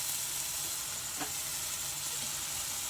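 Freshly grated coconut frying in ghee in a pan, for ragi and jackfruit-filled kozhukattai, makes a steady close sizzle and hiss, with one brief stir or scrape near the middle and no talking.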